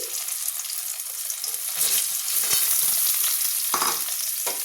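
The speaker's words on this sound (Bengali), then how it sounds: "এবার এই আলুগুলোকে হালকা হাতে ভালোভাবে তেলের সাথে, তেল আর নুনের সাথে লাল করে ভেজে নেব।" Potatoes sizzle and fry in hot oil with salt in a pan, a continuous crackling hiss broken by a few louder stirring scrapes and spatters, close up with no talking.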